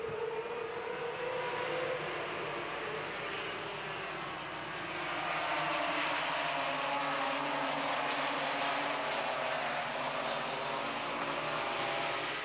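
A pack of 500cc Grand Prix racing motorcycles screams past in a sustained, loud high-revving roar that swells and shifts pitch as the bikes accelerate together.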